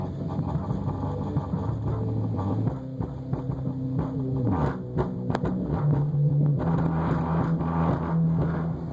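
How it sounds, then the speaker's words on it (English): A Rockford P2 subwoofer sits free-air with no box on a workbench, driven by a repaired Kicker ZX400.1 amplifier. It plays steady low droning tones that shift pitch twice, with rattling buzz from the bench and no talking. "I got it hooked up to this Rockford P2, just free airing it, no box or anything."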